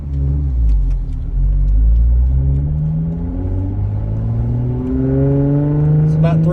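A Jeep Wrangler JK running with no muffler revs hard in first gear, its pitch climbing steadily. It drops briefly on the shift to second, then climbs again as a loud, close, rumbling exhaust throughout.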